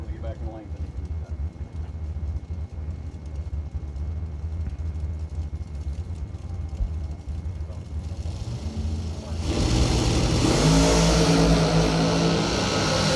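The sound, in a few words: drag racing cars revving and accelerating down the lane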